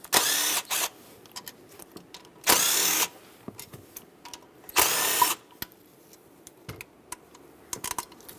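A power tool zips out the 10mm bolts holding the thermostat housing on a 5.3L V8 GMC Yukon XL, three short loud bursts of whirring spaced apart, with small clicks and handling noise in between.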